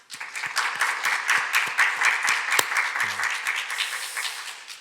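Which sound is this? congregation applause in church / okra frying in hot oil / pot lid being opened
congregation applause in church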